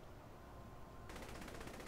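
Minigun in Saints Row The Third opening fire midway after a spin-up hum, a dense rapid rattle of shots continuing steadily to the end, loud and close.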